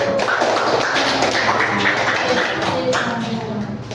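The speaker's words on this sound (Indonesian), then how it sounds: "Berikan tepuk tangan untuk kelompok 1." A classroom group claps for the first group of presenters, a busy, fairly loud patter of many hands with scattered distinct slaps, steady throughout and easing slightly toward the end.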